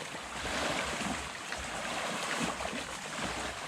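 Water rushes steadily along a river at the Fern Cliff Nature Preserve near Drumore, a soft continuous wash with gentle surges, close but fairly quiet, and no one speaking.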